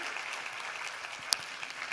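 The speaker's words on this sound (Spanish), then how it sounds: "un aplauso" An audience at a round-table conference applauds in a steady, moderately distant wash of clapping, fairly quiet overall, with one sharper clap standing out near the end.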